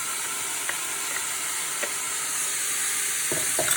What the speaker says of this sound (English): Add them to the sizzling pan.